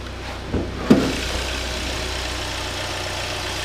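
A 2016 Hyundai Santa Fe with a 2.4 liter engine and all-wheel drive idles steadily with a low, even hum, nearby, with a couple of brief knocks or clicks early on and no talk.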